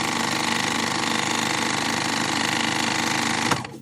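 A Baby Lock Triumph serger sewing machine runs at a fast, steady mechanical chatter close up, then stops abruptly near the end.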